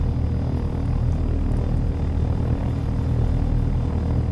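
A training helicopter in the flight game Take On Helicopters drones continuously, a loud, steady low rotor and engine rumble that holds without a break and with no voices over it.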